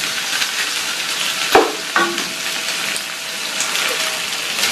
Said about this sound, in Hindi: चिकन को 2-3 मिनट फ्राई करते हैं।